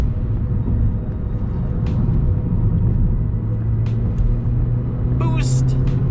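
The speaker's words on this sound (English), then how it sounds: "Just gotta rev out that tiny little 4-cylinder." A 2017 Chevrolet Cruze hatchback's small turbocharged 4-cylinder engine drones and revs as a steady, loud rumble heard from inside the car, with someone talking over it.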